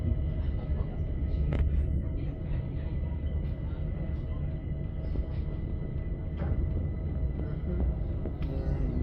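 Low, continuous rumble of a train rolling along rails between Benfleet and Leigh, with faint clacks and creaks, heard steadily from inside the carriage.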